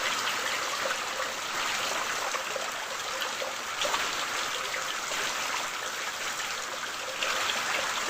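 Rainwater flows through a flooded village farm field during heavy rain, a steady, even rush and trickle of water heard close by with no voices.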